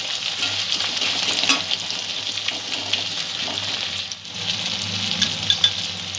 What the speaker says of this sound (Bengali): পেঁয়াজ আর টমেটোটা কিছুটা ভাজা হয়েছে, নরম হয়ে এসছে দেখুন